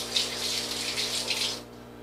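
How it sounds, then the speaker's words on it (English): Running tap water splashes over hands being rinsed at a kitchen sink during baking, a steady close hiss of flowing water that cuts off near the end, leaving quiet room tone. "Now my hands are a little bit grungy, so I'm going to rinse them."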